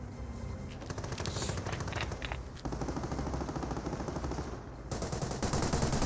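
Rapid machine-gun bursts rattle continuously in a Company of Heroes battle, a dense, loud stream of rounds that barely pauses, with sharper cracks layered over the steady chatter.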